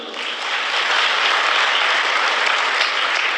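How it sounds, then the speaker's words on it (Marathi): A seated audience at a health talk claps for donors in a dense, steady burst of applause that stays loud and even throughout. "तर तुमच्या सगळ्यांना जे डोनर आहेत त्यांच्यासाठी एकदा टाळ्या वाजून"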